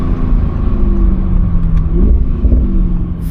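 A 2017 Audi RS6 C7 engine rumbles loudly and steadily up close, with a brief rise in pitch partway through as it revs, and no one speaking.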